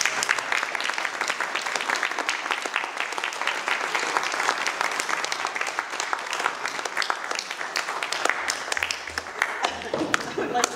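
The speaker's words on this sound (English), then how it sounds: "I think we need to give him a big round of applause." A seated audience at a historical society's 40th anniversary gathering claps steadily for about ten seconds, a dense even patter of many hands in an indoor hall that thins out toward the end.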